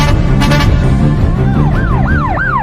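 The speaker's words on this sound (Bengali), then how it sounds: "এটা তো পুলিশের গাড়ির আওয়াজ" A police car siren wails nearby in a house setting, with loud, repeated rising and falling tones sweeping up and down over a low rumble.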